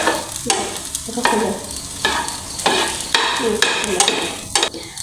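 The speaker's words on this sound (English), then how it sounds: "Next add a spatula to cook at the right and stir to mix everything together." Egg fried rice stirred in a pan with a spatula, the scraping and tossing strokes coming in a steady rhythm over a low sizzle, loud and close with no talking.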